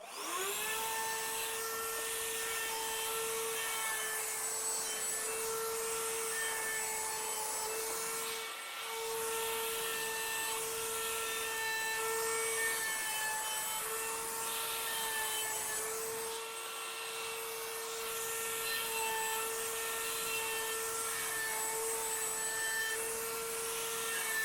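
A router fitted with a roundover bit shapes the edges of a wooden Adirondack chair seat slat, a steady high whine running continuously with slight dips as the cut moves along, no talking.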